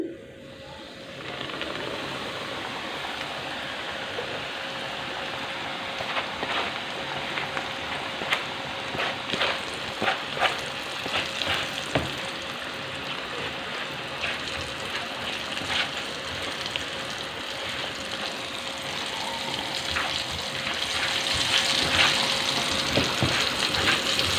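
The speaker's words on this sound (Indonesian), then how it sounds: "Dan minyaknya juga sudah panas. Saya masukkan." Steady crackling sizzle of catfish frying in hot oil, continuous and close, growing slightly louder toward the end.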